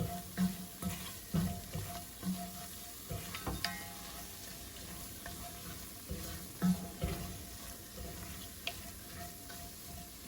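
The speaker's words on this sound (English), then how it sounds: "let's mix in this chicken masala powder until the spices have thoroughly combined with the onion mixture" Chicken masala powder is stirred into a frying onion mixture, with a quiet sizzle under irregular scrapes and clacks of a utensil against the pan.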